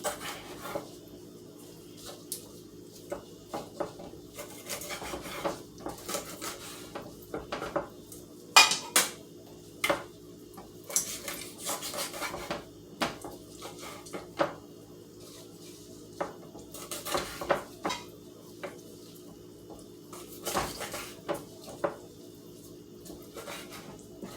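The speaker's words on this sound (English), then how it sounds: "And cut these chicken wings up." Intermittent sharp clicks and knocks of a knife cutting up chicken wings on a cutting board, irregular cuts spread over a quiet kitchen background.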